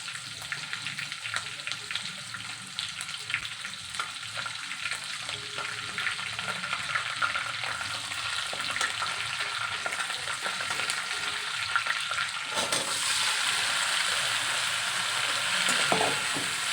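Spices sizzle in hot oil for a tadka, a steady frying crackle with stirring scrapes that swells louder in the last few seconds.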